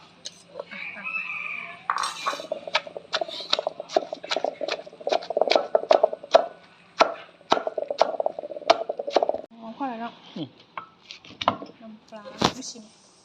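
Chili, shallot and garlic pounded in a mortar for an Isan cicada dip, giving a steady run of sharp, close thuds with short pauses, while a voice talks through part of it.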